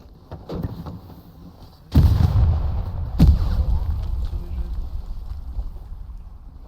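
A grenade blows up in the World War II shooter Hell Let Loose, a heavy blast followed by a second thump and a rumbling tail, with faint gunfire before it.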